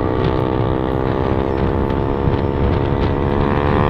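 A modified Yamaha MT-15 BS6 motorcycle exhaust drones steadily and loudly during a ride on a wet road. The engine tone is strong and even throughout, with some wind buffeting on the microphone.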